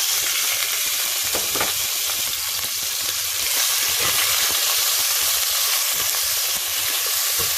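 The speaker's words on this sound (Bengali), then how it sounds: "এর মাঝে এখন ম্যারিনেট করে রাখা চিকেন আর প্রনগুলোকে দিয়ে সামান্য ভেজে নেব।" Marinated chicken and prawns fry in hot oil in a pan, a steady, loud, broadband sizzle and hiss running continuously from start to finish, with faint stirring movement underneath.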